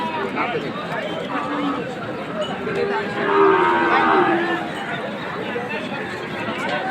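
Bull cattle lowing at a busy livestock market ahead of Eid al-Adha, moos rising over constant crowd chatter and nearby voices talking.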